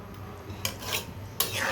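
A spoon is scraped and dragged through thick haleem in a cooking pot, two short scraping strokes over a low background hum, close and moderately loud.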